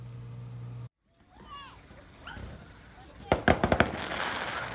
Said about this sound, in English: A nice surprise with fireworks right across from our marina for Canada Day.